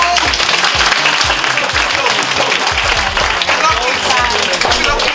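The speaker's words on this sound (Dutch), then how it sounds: "Ja, goed zo met applaus voor dat" Children at a community kids' project in Marowijne, Suriname, clap loudly and continuously, with low rhythmic thumps underneath and excited young voices chattering through the applause.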